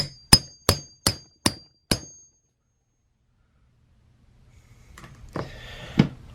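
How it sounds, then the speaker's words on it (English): Five sharp metallic taps of a hammer striking a stamp into leather land in an even rhythm, then silence, followed by two more louder strikes with some rustling, close by. "I'm just going to use a hammer on it and hope for the best"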